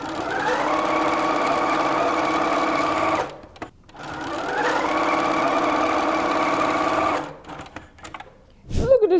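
Nine-patch quilt blocks for a winter table runner go through a sewing machine in two long, loud, steady runs of stitching up close, each rising briefly in pitch as it speeds up, with a short pause between them.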